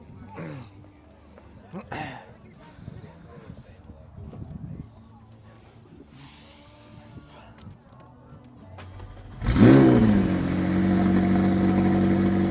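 At a high school car show, a car engine fires up after some chatter and clanks, then settles into a loud, steady idle close by, with people talking near it.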